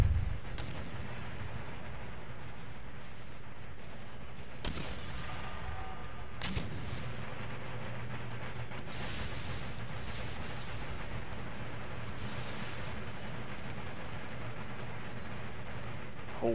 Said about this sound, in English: They come under a tremendous amount of barrage here.